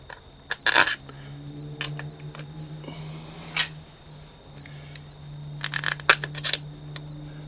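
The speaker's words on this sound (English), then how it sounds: "we'll put our bolts in" Small metal bolts clink and tick as they go into the kick starter on an electric-start Suzuki DR350, a few sharp, close, scattered clicks over a quiet workshop background with a low steady hum.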